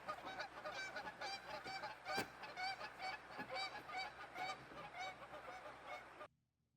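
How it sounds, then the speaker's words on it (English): Geese honking near a campsite at night during a spring camping trip: a steady, close chorus of repeated nasal honks for several seconds, ending abruptly in silence. "A lot of goose ASMR tonight."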